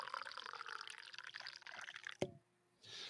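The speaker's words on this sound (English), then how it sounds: "So I'm going to pour myself a cup of coffee." Coffee being poured into a cup: a quiet, continuous liquid stream that ends abruptly with a small clink, followed by near silence and faint room noise.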